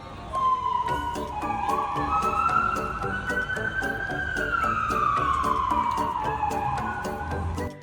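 A fire engine siren wails loudly and steadily, its pitch sweeping up and falling back in a long wavering arc as the truck works through blocked traffic, with a busy engine rumble underneath.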